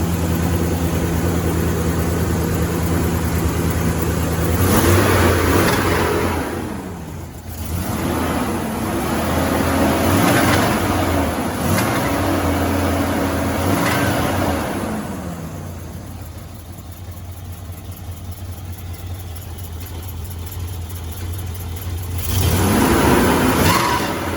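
A Dodge D100 barn-find pickup, run again after about 25 years, revs its engine repeatedly, each blip rising and falling over a rough, uneven idle, loud and close throughout.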